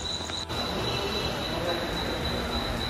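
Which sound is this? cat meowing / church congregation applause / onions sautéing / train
train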